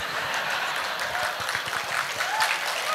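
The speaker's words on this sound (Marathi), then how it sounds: "आता 90s वाल्यांनी टाळ्या वाजवल्या" A stand-up comedy crowd breaks into dense, sustained applause that stays loud and even throughout, filling the room without any talk on top.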